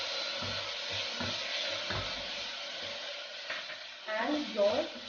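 Tomatoes and green chilies frying in a pan over sautéed garlic give a steady, close broadband sizzle, swelling with a few louder bubbling bursts near the end.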